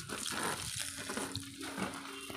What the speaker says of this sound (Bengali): দেখুন আমি জল দিচ্ছি এখানে